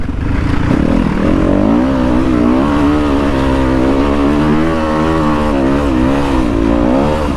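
A 2023 Kove FSE 450 R rally motorcycle being ridden, its single-cylinder engine droning loud and close throughout with wavering revs rising and falling, over wind noise and no talk.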